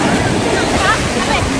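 Ocean surf at a beach resort in Tangalan, Aklan roars steadily close by, with broad continuous wash and some wind buffeting on the microphone.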